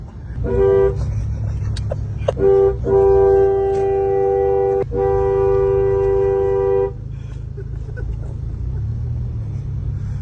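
A Toyota Yaris car horn honks in short toots, then gives two long sustained blasts over a low engine rumble, close and loud.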